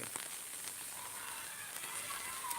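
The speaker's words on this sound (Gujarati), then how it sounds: "એકધારો ધીમી ધારે વરસાદ વરસી રહ્યો છે" Steady light rain falls over Akala village on a Saturday morning, a soft continuous hiss of drops with faint scattered patters, even and unbroken throughout.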